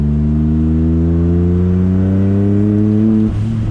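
Small engine on a Vert revving hard after a carburetor idle screw adjustment, a loud close buzzing roar that climbs in pitch and then drops back sharply near the end.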